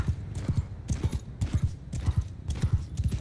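Rhythmic hoofbeats of a horse galloping in the Mount & Blade II Bannerlord game, sharp repeated clusters of clip-clop strikes in a steady gait, fairly close and alone.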